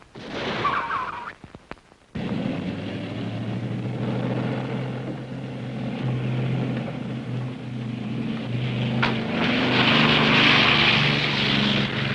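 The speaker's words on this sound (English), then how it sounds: "They just took off in the airplane." A propeller airplane takes off, a low droning engine hum rising after a short burst of noise and growing brighter and louder toward the end.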